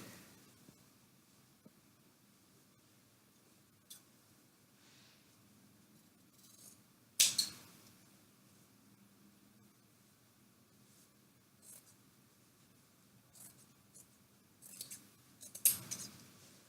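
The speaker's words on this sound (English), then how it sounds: "I just make a little snip in both layers of fabric" Scissors snipping through two layers of fabric for a fringe tank top, faint and close, with a few scattered small cuts and a couple of sharper rustling snips against quiet room noise.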